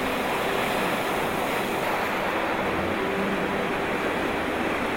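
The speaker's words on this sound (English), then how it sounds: "The incoming ocean tide creates steep waves where the two bodies of water meet." Steep waves from an incoming ocean tide break where two bodies of water meet along a boat route from Vancouver Island toward Alaska, making a dense, constant surf wash mixed with wind noise and no voices.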